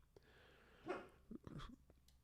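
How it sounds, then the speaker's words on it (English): An upset pet dog gives a short, muffled bark and huffing breaths indoors, faint and brief, with small snorts following, quiet and alone. "Dog's upset."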